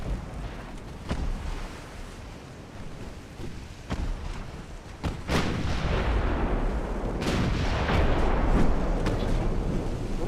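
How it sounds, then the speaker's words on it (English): Secondary 5-inch naval guns fire during a battle in Ultimate Admiral Dreadnoughts, a series of booming reports over a continuous heavy rumble that builds louder toward the end. "you can see the secondary 5-inch guns doing a pretty good job of hitting the targets"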